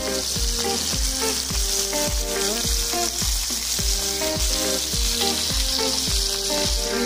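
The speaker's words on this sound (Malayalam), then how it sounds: "ചെറു തീയിൽ കിടന്ന് ഇത് നന്നായിട്ടൊന്ന് മൊരിഞ്ഞു വരട്ടെ" Fish fries in coconut oil over a low flame with a loud, steady sizzle, while rhythmic repeating tonal beats, likely background music, run underneath.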